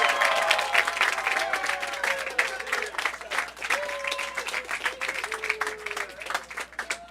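Crowd applauding and cheering for a state championship team at a fishing tournament event, dense sustained clapping with whoops and shouts throughout, fading slightly toward the end.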